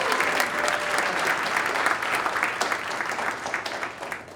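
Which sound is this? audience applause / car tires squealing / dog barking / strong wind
audience applause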